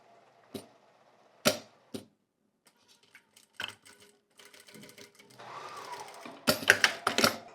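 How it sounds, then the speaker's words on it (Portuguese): A sewing machine stitches a diagonal seam on bias tape. Short separate bursts of rapid stitching are followed by a longer run and then a loud, fast flurry at the end. "E aí eu vou passar uma costura na diagonal."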